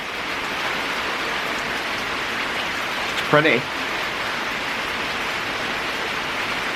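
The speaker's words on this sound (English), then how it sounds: "there's the rain. It's not like a thunderstorm, it's like just like raining hard." Hard, steady rain pours outside (not a thunderstorm) as an even, broad hiss that lasts throughout; a voice briefly speaks partway through.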